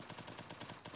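Rapid gunfire from the battle-royale video game Free Fire, a steady burst of evenly spaced, loud digital shots rattling off in quick succession with no voices over it.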